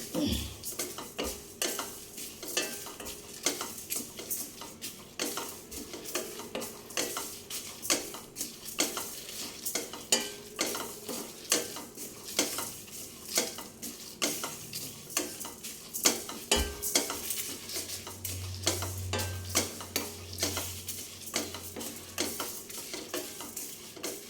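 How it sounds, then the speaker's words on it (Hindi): Spoon stirring homemade raita masala spices in a hot wok (kadhai) after the gas is switched off, giving steady scraping and clinking strokes with a faint sizzle throughout, no voices. "तो बस ऐसे ही चलाते हुए 2 मिनट और कर लेंगे गर्म कढ़ाई में"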